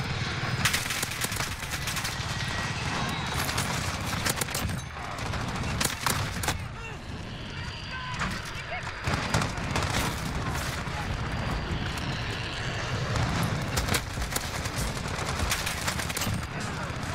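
AK-47 fire in Call of Duty: Modern Warfare, dense repeated bursts of rapid gunshots and loud game effects filling the clip almost continuously, with a player's voice mixed in.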